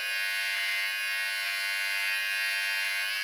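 A 4D 6-in-1 grooming kit electric clipper runs steadily, a continuous high-pitched motor buzz with no pauses, heard close and alone.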